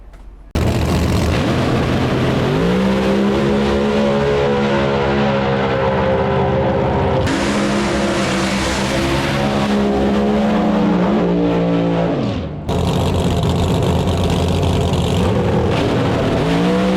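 A drag racing car at a Street Outlaws No Prep Kings event launches nearby with a deafening, sustained engine roar that climbs in pitch through the gears for long stretches, then cuts abruptly and snaps back to full volume.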